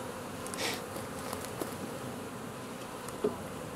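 A soft, continuous hum of many honeybees from a shrinking swarm being shaken down into a box, faint and steady, with a few small bumps and taps.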